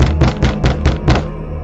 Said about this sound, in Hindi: कुछ घंटों बाद उनके घर का दरवाजा फिर से खटखटाता है।